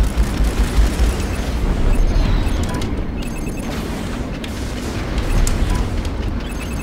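A frigate exploding in the space combat game Strike Suit Zero, a loud sustained rumbling blast that swells, eases and swells again, dense and low with no talk.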